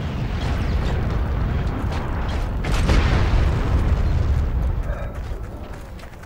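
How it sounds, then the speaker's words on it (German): Dense rumbling blasts and distant gunfire roll through a Heroes and Generals match, a steady low boom filling the whole stretch with no clear voices. "Da schießt schon wieder jemand."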